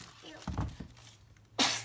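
A single sharp sneeze bursts out near the end, loud and close, after a few moments of indistinct voices at a family Christmas present opening.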